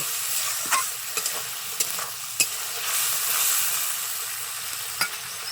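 Ground cumin and coriander spice paste with a little water frying and stirred in a pan while cooking a pumpkin and snail curry, a steady close sizzle with several sharp scrapes and clacks of the spoon against the pan.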